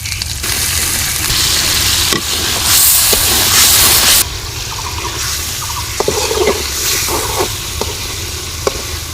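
Fried fish is sautéed in a village kitchen with onion-garlic paste, turmeric, chilli powder and salt, making a continuous loud sizzle and hiss with scattered spoon scrapes and clinks.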